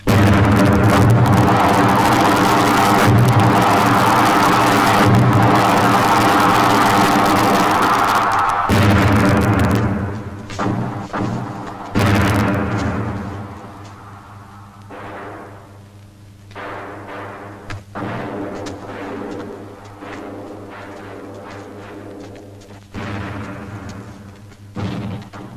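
Cannon fire in a battle scene from a 1987 Vietnamese film about Hoàng Hoa Thám, heavy booming blasts layered over a continuous roaring din, fading into sparser distant thuds and rumbles.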